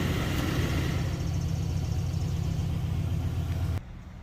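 LS V8 engine idling during a diesel/kerosene flush, a loud steady low rumble close by that cuts off abruptly near the end, no voices.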